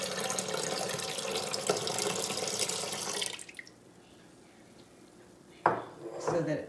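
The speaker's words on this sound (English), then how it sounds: "at this point, we want to add our priming sugar solution" Priming sugar solution pours into flowing home-brew beer during bottling, a steady close splashing and trickling that stops abruptly, followed by quiet and a few clinks of equipment.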